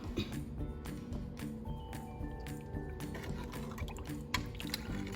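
Water is poured into a pot of Haitian corn meal, making a steady liquid splashing and gurgling sound that carries on through the whole moment, close to the microphone.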